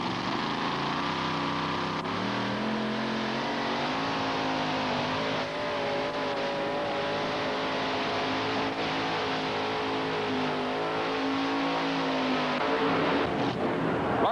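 Mini modified pulling tractor called the Sting, driven by Roger Wysong at an NTPA pull in Syracuse, 1988, roaring steadily and loudly down the track, engine pitch holding high throughout before easing near the end.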